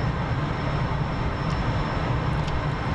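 An F-14 launching off a carrier catapult in the DCS flight simulator, a loud, steady jet engine roar that fills the whole moment with broadband rushing noise and no break.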